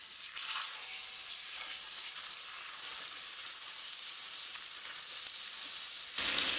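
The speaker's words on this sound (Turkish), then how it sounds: "Burada 200 gram tereyağım var. Tencereme ekliyorum." About 200 grams of butter sizzles steadily in a hot pot, a continuous soft crackling hiss that holds level throughout, ending with a brief louder burst.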